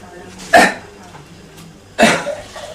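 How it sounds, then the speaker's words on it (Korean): Two short, breathy coughs from a gravely ill person, spaced over a second apart, weak and close by, with faint room noise between them. "물만 마셔도 한참 동안 기침이 나는데 기침마저 힘이 하나도 없다."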